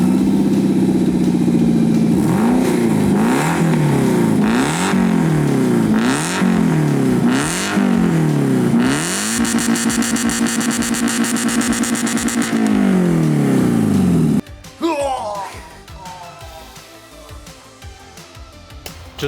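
A Toyota MR2 engine revs hard in repeated rising and falling sweeps, then holds a sustained high-rpm scream before cutting off abruptly, leaving faint echoes and quiet outdoor background.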